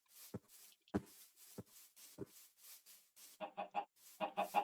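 A chicken clucks after laying an egg: several sharp separate squawks, then rapid rhythmic bursts of clucking, fairly close and alone with no talk.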